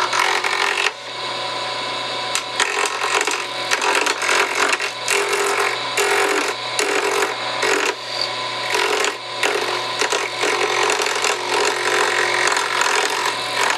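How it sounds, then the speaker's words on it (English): A round nose scraper cuts wood spinning on a lathe, making a close, continuous rough scraping and rasping with short rhythmic breaks as the tool shifts along the piece. "we'll be using this round nose scraper the same as we would a gouge"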